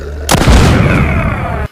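One loud gunshot from a zombie apocalypse video game hits with a sharp crack. A booming, echoing tail follows and lasts over a second before it cuts off.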